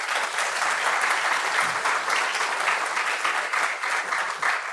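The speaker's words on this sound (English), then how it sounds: "big round of applause for these guys" Loud, dense audience applause for a panel at a football law and administration career discussion, a continuous close crowd clapping held steadily throughout.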